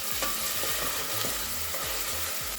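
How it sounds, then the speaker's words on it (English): Chopped onions fry in hot oil in a pan, a continuous loud sizzle broken by repeated scraping stirs at a fairly regular pace, close up with no talking. "Fry for a bit."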